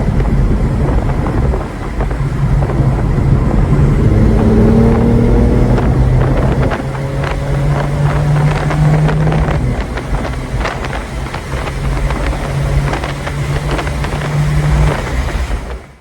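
A BMW M4 at speed on a race track, with a steady engine drone and rising gear tones through the run, plus heavy wind rush that stays loud throughout.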